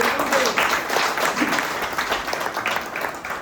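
A gathered audience at a flood-relief aid event in Nangal Sohal bursts into steady, dense applause that stays full and sustained throughout, with a faint voice underneath.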